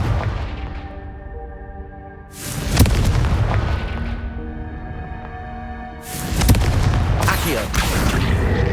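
The Confringo fire spell bursts in Hogwarts Legacy, giving two heavy booming explosions several seconds apart, each with a sharp onset and a long rumbling tail over a sustained musical score.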